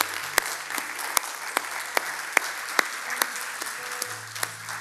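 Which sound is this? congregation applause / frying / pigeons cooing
congregation applause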